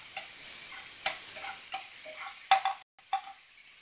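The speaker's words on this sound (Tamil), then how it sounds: "இந்த அரைச்ச பேசி இதில் போட்டு நல்லா எண்ணெயிலே நல்லா கிளறி விடுங்க" Ground onion and tomato paste stirred into hot oil in a pan, a soft steady sizzle with scraping spoon strokes and a few sharper clinks, close and fairly quiet, no talking.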